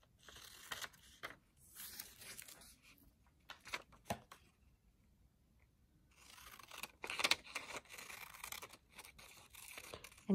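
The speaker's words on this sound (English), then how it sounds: "Then you'll cut out each of these little apples." Scissors snip out small paper apple shapes close up, giving quiet bursts of crisp cutting and paper rustle with a pause in the middle. No one speaks.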